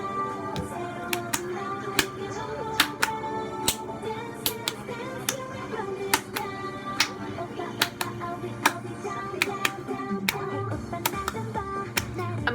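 A crisp, regular clap beat drives a pop song, sharp hits recurring in a steady rhythm over the full backing track.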